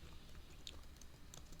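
Soft, quick keystrokes on a computer keyboard tap out a short search keyword, faint and close against a steady low room hum, with no talking.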